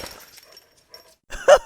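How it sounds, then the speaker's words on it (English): A pet dog gives one short, sharp bark near the end, preceded by faint snuffling and small sounds in a quiet room. "And here is my pet dog."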